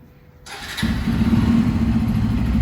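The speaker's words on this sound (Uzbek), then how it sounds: "Motorni yurg'iz." A vehicle engine started indoors because of rain outside: a short cranking whir, then it catches and settles into a steady, loud, close idle rumble with no talking.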